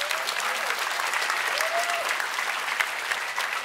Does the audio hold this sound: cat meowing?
no